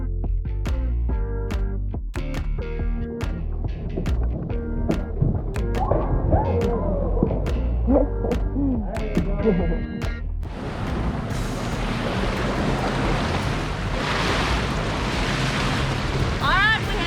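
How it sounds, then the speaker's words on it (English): Choppy lake water slaps and thumps against a canoe hull at Tims Ford State Park in Tennessee, with wind buffeting the microphone and a strong surge of rushing water in the second half; people talk at times. "That wave pushed us."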